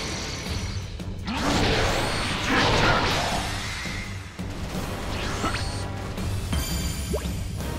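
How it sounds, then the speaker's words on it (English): Special Beam Cannon energy blast from the Dragon Ball Z: Kakarot game on PC, a loud sustained rushing burst with crashing, whooshing layers that swells and then carries on under game music and effects. "Special beam cannon!"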